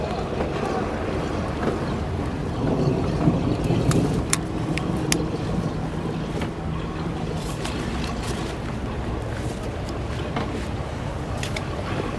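Storm wind buffets the microphone in Miami during bad weather, a continuous rough roar with rain, gusting louder around the middle and a few sharp taps and crackles, close and loud throughout.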